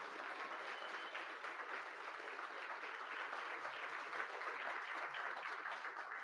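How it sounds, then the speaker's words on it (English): Audience applause at an esports championship finals event for two high school teams, a steady wash of clapping heard from a distance, fairly faint and even throughout. "let's give both Lompoc and Franklin High School a huge round of applause for being here."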